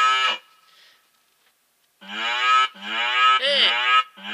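A young person mimics a cow's moo in several drawn-out, nasal bursts separated by a pause, loud and close to the microphone, one call bending upward in pitch.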